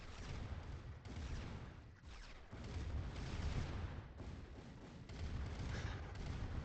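Rocket fire and explosions roll back and forth in the IronRush real-time strategy game, a dense, muffled stream of distant booms and rumbling thuds that never lets up.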